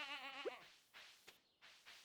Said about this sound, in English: Why does that sound like a sheep?